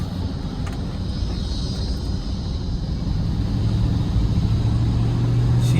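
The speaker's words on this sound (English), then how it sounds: "Let's kick that supercharger in real quick for a second," A supercharged 2000 Ford F-150 Harley Davidson Edition pickup drives along with a steady, loud engine drone and road rumble that slowly builds and tightens in pitch toward the end as the supercharger comes in.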